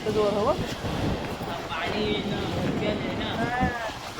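Wind and foamy sea waves roll in at Harihareshwar beach in windy monsoon weather, a continuous broad roar of surf and gusts close to the microphone, with voices talking over it.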